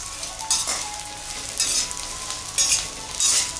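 Edible gum (gond) roasting in a hot pan for besan laddu gives a steady crackling sizzle, with louder bursts of frying roughly once a second as the pieces are stirred and puff up white. There is no talk.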